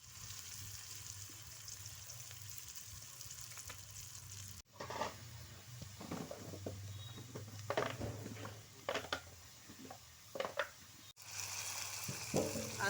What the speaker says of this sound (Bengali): এখন আমি মাছের তেলে পেঁয়াজটা দিয়ে দেবো, দিয়ে লাল করে ভেজে নেব।